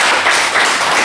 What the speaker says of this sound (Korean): 우리 이용훈 목사님을 위해서 박수 한번 쳐드립시다